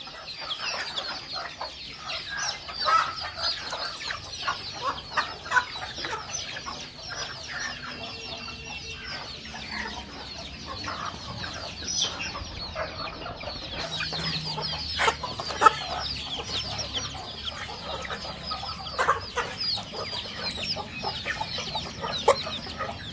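A flock of desi backyard chickens clucks and chatters continuously while pecking at finely chopped onion fed to them in summer. Busy overlapping clucks come from nearby, with occasional louder calls and no talking.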